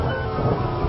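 Rain and thunder effect in a horror radio drama, a steady dense wash of rainfall with low rumbling beneath, loud and continuous for a second with no voices.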